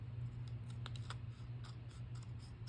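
Scissors cutting a laminated planner tab, a series of crisp snipping clicks in a quick irregular rhythm over a low steady hum, close and quiet, with no voices.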